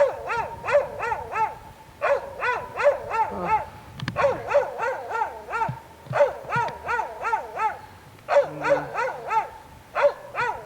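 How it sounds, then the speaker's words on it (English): A small yappy dog barks rapidly and repeatedly at a homestead, sharp high yips coming in quick bursts with brief pauses, loud and close, with a few whimpers and no talking. "That's his yappy little dog. His alarm system."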